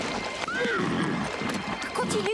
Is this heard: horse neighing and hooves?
yes